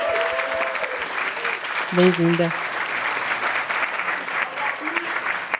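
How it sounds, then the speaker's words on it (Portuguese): Applause from the audience at a data journalism award ceremony, a steady broadband patter of clapping running under a voice, with a brief spoken greeting in the middle. "Uma salva de palmas"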